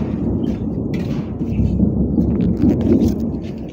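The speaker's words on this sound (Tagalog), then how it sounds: "Lakas ng kulog." Loud, deep rumbling thunder during a storm, a sustained low roar swelling and rolling over several seconds with a gusty, wind-buffeted texture close to the microphone.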